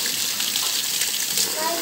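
Tap water gushing loudly and steadily in a kitchen while spaghetti bolognese is being cooked, a continuous close, bright rush with no pauses.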